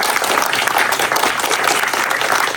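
A group of visitors on a Qızılağac National Park tour applauds their teachers, giving a close, steady wash of clapping that stays loud and even.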